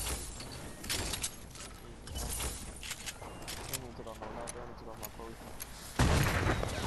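Fortnite gunfire crackles in scattered bursts alongside game mechanisms and footsteps, with a louder burst near the end. Players talk over it throughout.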